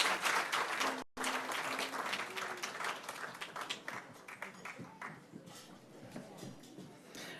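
An audience applauds Tenzin and the children at a 90th anniversary event, a full burst of clapping that gradually thins and fades out, with some voices underneath.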